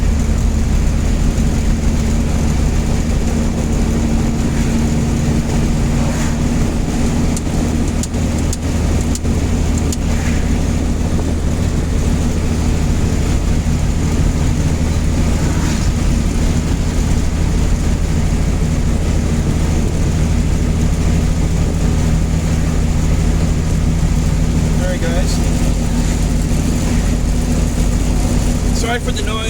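An 86–93 Mazda B Series pickup on Holley Sniper EFI cruises with the windows down, giving a constant loud engine drone over heavy wind and road roar that runs unbroken the whole time.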